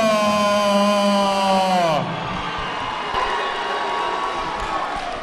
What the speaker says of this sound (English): Throughout those hometown boos, there's a heck of a lot of people cheering for DJ